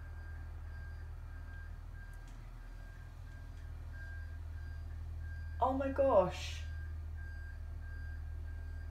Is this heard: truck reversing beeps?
yes